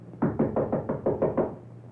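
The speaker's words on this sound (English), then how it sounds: "before knocking on his door" Knocking on a door for a radio drama sound effect, eight firm, evenly spaced raps with a hollow wooden thud, close and alone.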